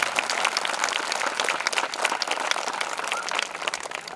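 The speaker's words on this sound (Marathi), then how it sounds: "सरांसाठी खूप टाळ्या वाजवल्या" Audience clapping at a school retirement felicitation ceremony, dense steady applause from a crowd throughout, with no talking.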